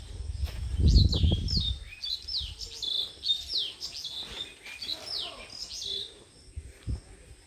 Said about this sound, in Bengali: কি সুন্দর পাখি ডাকার শব্দ খেয়াল করছেন